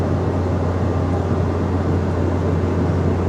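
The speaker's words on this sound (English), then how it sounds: "it's actually quite noisy in here, not gonna lie though, I do really like the engine noise" Cabin noise aboard a brand new Chinese-made regional jet in flight in Indonesia, a loud, constant broadband engine roar with a steady low hum, uniform and without talk.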